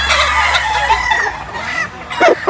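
A yellow-legged hatch gamecock rooster crows nearby, a drawn-out call with clucking, loud and clear over a quiet farm background.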